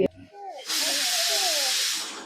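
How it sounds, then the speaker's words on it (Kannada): A pressure cooker vents steam in a loud, steady, close-up hiss that starts suddenly and runs without a break to the end, after a voice is heard briefly at the start. "ಕುಕ್ಕರ್ ಕ್ಯಾಪ್ ಹಾಕೋದು. ವಿಷಲ್ ಕೂಗ್ಸ್ಬೇಕಾ? ಎಷ್ಟು? ಎರಡು."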